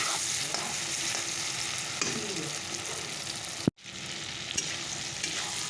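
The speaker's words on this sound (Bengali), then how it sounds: "টমেটো কুচি দিয়ে দেবো নুন দিয়ে দিলাম চলো এটাকে একটু ভালো করে ভেজে নিই" Chopped tomatoes and onions with salt fry in a pan with a steady close sizzle and occasional stirring clinks, broken by one brief sharp knock and a moment of near silence.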